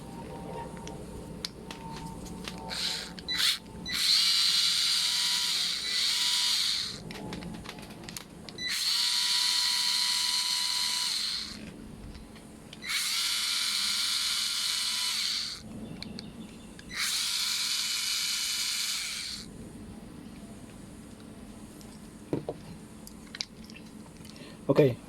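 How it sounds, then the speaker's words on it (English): A Honda GX25 blower carburetor being taken apart with a power screwdriver: four sustained whirring bursts of several seconds each, close and loud, separated by softer handling clicks and scrapes. "let's pull the carburetor apart."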